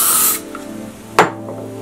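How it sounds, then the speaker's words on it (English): Hairspray sprayed on a ponytail, a short close hiss that cuts off, followed by a quick second puff of spray. "I'm gonna run my hairspray one more time."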